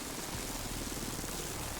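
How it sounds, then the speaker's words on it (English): A helicopter in The Division 2 gives a steady broadband rotor and engine roar, a dense continuous wash with low thumping underneath, no talk. "Oh, okay, chopper there."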